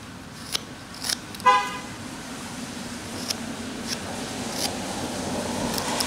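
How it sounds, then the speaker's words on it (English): Late-afternoon road traffic with a steady, distant hum of passing cars, broken early by a short, sharp car-horn toot and a few brief louder swells. "cars are starting to really move now, so you're going to hear a lot of cars"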